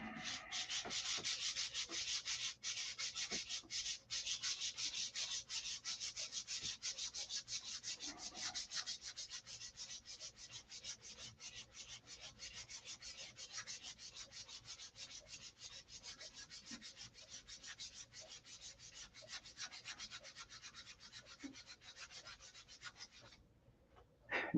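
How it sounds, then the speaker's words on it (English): Sandpaper rubbing steadily over superfill filler on a SIG Magnum model airplane, a close, continuous scratchy sanding that runs unbroken for the whole stretch, slightly easing off toward the end before stopping. "That superfill added quite a bit. So we got to sand her out."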